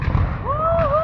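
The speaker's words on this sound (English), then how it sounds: "Okay, guys, more fireworks." Fireworks go off during a Romania's national day celebration, with a rising whistle over a low rumbling, crackling background that sounds fairly close.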